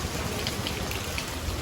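Steady morning rainfall patters and drips on a surface close by, an even wash of drops with a few sharper splashes and no voices.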